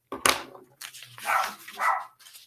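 A pet dog barks indoors during an online math lesson on multiplication, giving a few sharp yips at close range that break through between stretches of a teacher's speech.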